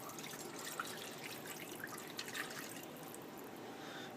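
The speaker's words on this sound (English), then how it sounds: "I've got about 2 cups of water here that I add to give the roast some juice." About two cups of water pour steadily into a roasting pan beside a marinated roast, making a soft, continuous splashing trickle with no talk over it.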